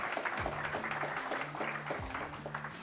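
Audience clapping in a television cooking competition finale, a moderate round of applause with uneven individual claps, fairly close and steady before easing off slightly at the end.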